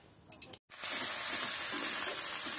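Onion and garlic hit hot mustard oil in a wok and burst into a loud, steady, hissing sizzle that starts abruptly after a brief silence and continues without letting up.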